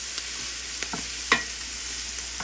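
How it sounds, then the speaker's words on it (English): Vegetarian rice with onion and plenty of garlic being stirred in a hot pan, giving a steady faint sizzle broken by a few soft scraping clinks of a utensil, with no talk. "Mix it up, mix it."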